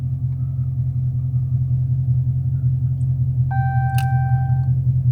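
A Dodge Charger Scat Pack engine rumbles with a deep, steady idle close by, held constant without clear revving, while a brief electronic chime sounds near the end.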